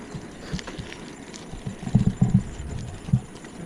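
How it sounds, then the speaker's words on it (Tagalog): A horse's hooves clip-clop in a short uneven cluster, moderately close, over a quiet outdoor background as someone leads the horse to pasture. "Kabayo."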